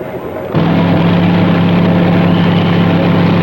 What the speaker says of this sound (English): But Pittman blasts by to take the run